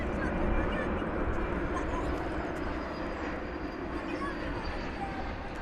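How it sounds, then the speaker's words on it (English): A Delta airliner from Minneapolis–St. Paul arriving at Dallas/Fort Worth Airport gives off a steady, broad jet rumble at moderate distance that eases slightly in loudness. "Got Delta Flight 1209 about to arrive."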